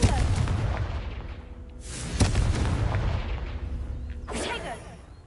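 A magic spell's fiery explosion effect bursts with loud booming blasts and whooshes, two sharp hits standing out over a dense rumbling bed, with no talking.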